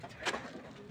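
A single short, soft coo from a pigeon at a pigeon farm, faint and brief against quiet background noise.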